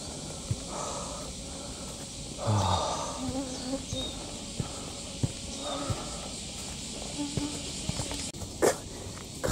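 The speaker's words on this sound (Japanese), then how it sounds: "蚊がおる。" Insects and mosquitoes buzz and whine faintly on a wooded mountain trail at Asakura Fuji, over a steady background hiss, with scattered footsteps and small knocks.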